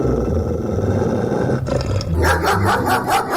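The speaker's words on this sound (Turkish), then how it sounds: "Öfkeli havlamalar gelsin." A large dog roars and growls aggressively, with harsh, deep barks bursting out in the second half, close and loud.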